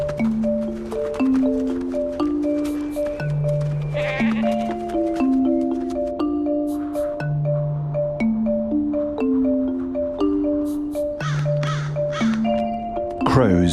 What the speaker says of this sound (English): Crows pick over the remains of a recent snow leopard kill, one of the nomads' goats.